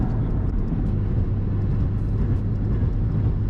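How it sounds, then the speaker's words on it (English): Nissan S13 Silvia with a turbocharged engine and five-speed gearbox, driven on the road: a steady, dense engine and road drone fills the cabin, with faint higher whistling hints of turbo spool over the low rumble and no talk. "Should be able to hear the turbo there as I shift through my 5 gears."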